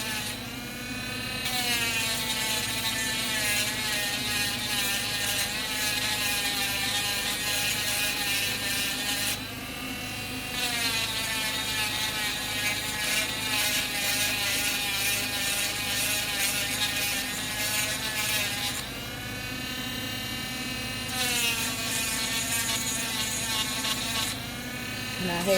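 A steady, loud power sander whines continuously on resin, dropping out briefly twice before starting up again, with a voice talking over it.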